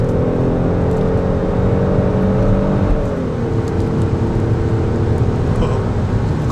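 Kia Stinger 3.3 GT with rear-wheel drive runs a mountain road in comfort mode, its engine droning steadily from inside the cabin, the pitch sliding lower partway through over a constant road and tire rumble.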